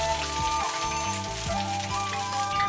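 Oil heats in a hot wok while cooking a Chongqing-style Sichuan beef with tofu pudding dish, giving a steady, loud, dense sizzle throughout with a faint tonal hum in the background.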